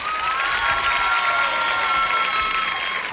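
A studio audience at the Sábado Gigante TV show claps steadily, a dense, continuous wash of applause with some cheering throughout.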